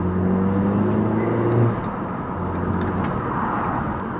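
A modified Fi2's car with a Supersprint intermediate exhaust revs loudly and close, holding a steady droning note for over a second before dropping back to a rough, rumbling idle.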